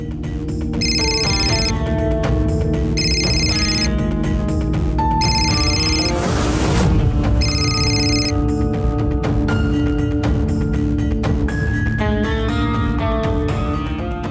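A telephone rings loudly in repeated electronic bursts with a tinkly melodic pattern, over background music, with no talking.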